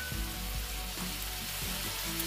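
Dark soy sauce hitting the pan in a Jamaican-style chicken stir fry: a loud, close hiss and sizzle, steady over a couple of seconds, with faint stirring knocks underneath.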